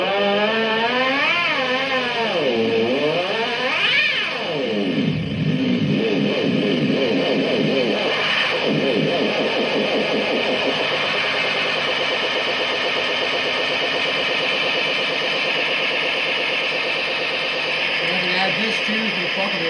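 An electric guitar plays through a Visual Sound Dual Tap Delay pedal with the overdrive fully up and the tone turned all the way up, giving a continuous, sustained, distorted tone with swooping string bends and smeared echoes.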